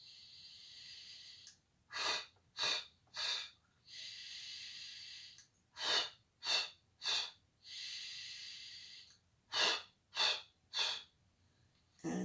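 Loud, close breathing during a Pilates mat exercise, alternating long steady exhales or inhales with quick sharp puffed breaths in bursts of three, repeated rhythmically with no talk over it.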